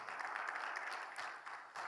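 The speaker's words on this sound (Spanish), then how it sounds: "Dale un fuerte aplauso, Señor." A Bible seminary class audience applauding, a brief faint patter of many hands heard from a distance in a room, steady and soft without speech over it.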